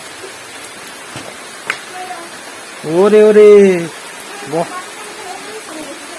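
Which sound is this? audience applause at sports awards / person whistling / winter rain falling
winter rain falling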